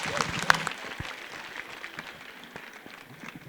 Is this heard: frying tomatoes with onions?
no